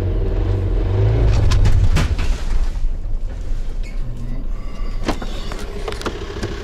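A car engine revs briefly during a Haldex all-wheel-drive test, a loud rumble that surges then fades into uneven mechanical noise and scattered clicks, close by.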